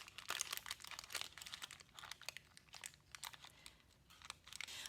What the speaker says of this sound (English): We want to preserve the wrapper though, so cut off the end and then cut the other end and then cut down the middle on this seam.